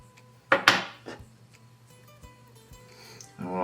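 Small scissors trimming material from a micro jig leech fly at the tying vise: two quick, sharp snips close by, then quiet handling and faint speech at the end.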